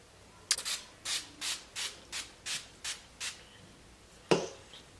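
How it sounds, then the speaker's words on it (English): Wet n Wild makeup finishing spray misted from a pump bottle: eight short, evenly spaced hissing bursts in quick succession, then a single sharper spritz after a pause, close and clear with no talking. "I'm going to be using this finishing spray by Wet n Wild."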